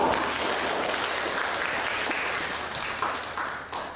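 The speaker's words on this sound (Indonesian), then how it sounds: "Kita beri aplaus untuk kelompok." A group in a classroom lecture applauds together, a dense burst of clapping that holds steady and then thins out toward the end.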